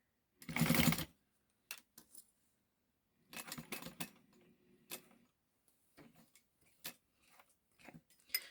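Sewing machine top stitching a glitter vinyl flap, with a loud burst of close stitching at the start, a longer run in the middle, then scattered short clicks and brief stitches amid quiet pauses.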